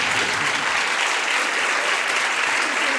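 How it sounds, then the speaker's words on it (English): A studio audience at a 1974 Match Game television game show applauds in a loud, dense wash of clapping that stays even and sustained throughout, with no voices over it. "They're applauding John's now."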